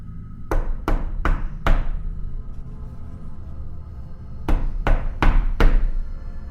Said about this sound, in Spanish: sonaron fuertes golpes dados con la aldaba en la puerta del templo